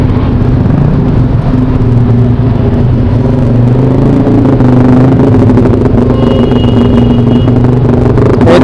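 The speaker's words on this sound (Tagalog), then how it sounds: "Talagang matraffic talaga dito sa area na to." Night city road traffic in Quiapo, Manila, with a steady close engine rumble and whir of idling and creeping cars and motorcycles, occasional revving, continuous and loud throughout.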